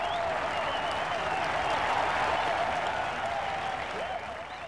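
A golf gallery at Royal Lytham applauds a tee shot on a par-three hole during the Open, steady sustained clapping from a large crowd that tapers slightly at the end.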